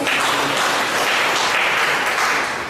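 Steady applause from a crowd at a Ghanaian community executives' introduction event in Tripoli, Libya, dense clapping held at an even level throughout with no talk over it.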